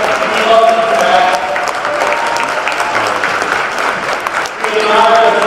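A crowd at a high school basketball invitational applauds loudly and steadily, sustained clapping filling the gym with some cheering and voices mixed in.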